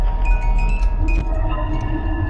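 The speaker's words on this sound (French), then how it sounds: "Oh! C'est le bruit du couloir, c'est Foxy" Hallway noise signalling Foxy in the video game Five Nights at Freddy's 2: a steady low rumble with a thin sustained tone on top, continuous and fairly loud for about two seconds, with no talking.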